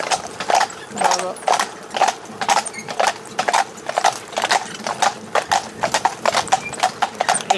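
Horse hooves clop steadily on hard ground while driving a horse in harness, an even, close walking rhythm with faint creaks of tack and a voice briefly in the background.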